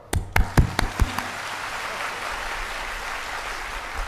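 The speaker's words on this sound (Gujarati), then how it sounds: "1 મિનિટ તાળીઓ પાડો." An audience at a Ramkatha religious discourse claps, opening with a few sharp, separate claps that blend into a softer, sustained wash of crowd applause.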